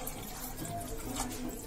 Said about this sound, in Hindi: अब ये इसमें ग्रेवी के लिए एक गिलास गरम पानी डाल रही हूँ।